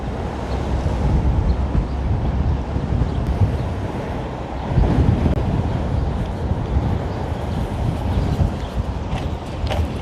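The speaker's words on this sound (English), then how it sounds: "It's so windy." Strong wind buffeting a phone microphone outdoors on a street in Queens, New York, a loud continuous low rumble with gusty swells, no talking heard.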